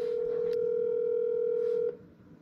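A phone line tone sounds steadily and fairly faintly through a handset, holding for about two seconds before cutting off abruptly.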